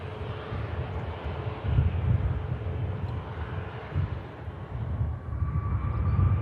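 Malta Air airliner lined up on the runway at Manchester Airport, its engines spooling up into a steady, rising rumble with low-frequency roar and wind buffeting, moderately loud and continuous throughout.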